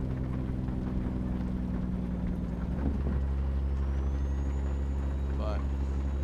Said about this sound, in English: One thing that was a big change from the 9-inch pipes to the 7-inch pipes was the sharpness of the exhaust.